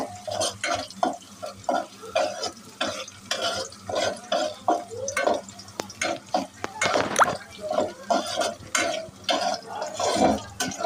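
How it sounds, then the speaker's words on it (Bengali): A spoon stirs onions frying in oil in a pot for Bengali aloo dum, making repeated rhythmic scraping strokes over a soft sizzle, close and fairly loud. "এই যে আমি পেঁয়াজ দিয়ে এখন লাড়তে আছি।"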